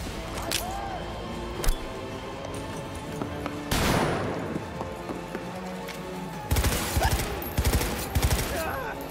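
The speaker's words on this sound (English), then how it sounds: "It was just a flashbang." A flashbang grenade goes off in the game Cyberpunk 2077, a sudden loud broadband blast followed later by another burst of rattling gunfire-like noise amid game sounds.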